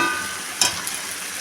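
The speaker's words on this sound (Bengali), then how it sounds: "এখন আমি যে পরিমাণটা আমার জল লাগবে আমি ঠিক সেই পরিমাণ জলটা দিয়ে দেবো" Water poured into sizzling masala in a pan for a rohu fish and cauliflower curry, heard as a steady, close sizzle with a sharp hissing burst midway.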